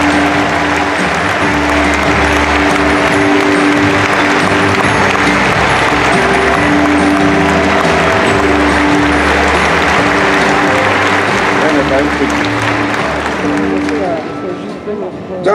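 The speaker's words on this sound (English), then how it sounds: "Please welcome her with a big round of applause." Sustained applause from a large audience at the 2018 Lions International Convention, a dense, steady wash of clapping that carries through most of the stretch, with voices and tonal sounds mixed in before it thins out at the end.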